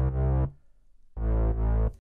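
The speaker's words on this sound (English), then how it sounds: "this roaring bass line that I'm crazy about." A heavy, distorted bass synth growls in two sustained bursts separated by a short gap, thick and buzzing with rich low harmonics.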